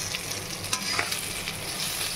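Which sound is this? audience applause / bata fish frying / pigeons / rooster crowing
bata fish frying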